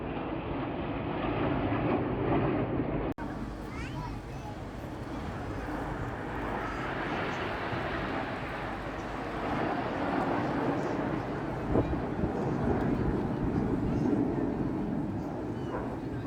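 Red Arrows jets fly in formation at the Eastbourne Air Show, producing a continuous broad roar that stays distant and steady for about sixteen seconds, rising and falling slightly, with a brief sharp crackle near the start.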